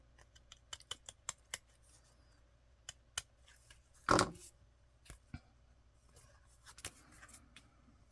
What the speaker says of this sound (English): being careful not to cut that netting